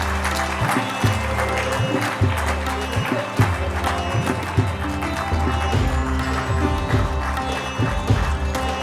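An audience at a foundation day and national management day ceremony applauds an award recipient, continuous clapping over loud, rhythmic walk-on music with a steady beat.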